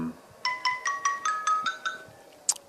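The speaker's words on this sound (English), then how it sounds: "My telephone's ringing again. Different ringtone." Mobile telephone ringtone plays a repeating sequence of bright electronic tones, about eight evenly spaced beeps, fairly quiet and heard alone with a faint background hiss.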